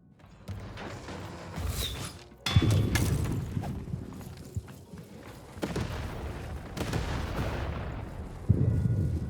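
Cannon blasts and gunfire from the Lost in Random video game, a battle against soldiers and towers: several loud, close booms arrive at irregular intervals over dense rumbling game audio, with no talking.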